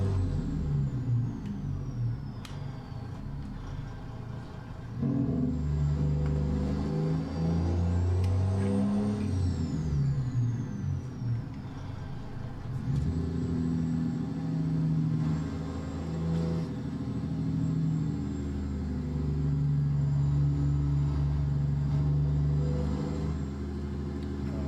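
Truck engine running in a high gear in American Truck Simulator, a steady low droning rumble with slight shifts in pitch and a faint whine, continuous and alone without talk.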